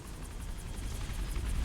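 A helicopter from the video game Metal Gear Solid: The Twin Snakes throbs close and loud, its rapid rotor chop pulsing steadily with a low engine rumble beneath, no voices over it.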